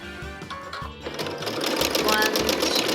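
A sewing machine zig-zag stitches a raw-edge appliqué in short bursts, a rhythmic mechanical whir that stops briefly and then runs steadily, close and fairly loud.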